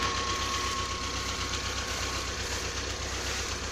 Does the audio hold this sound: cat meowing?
no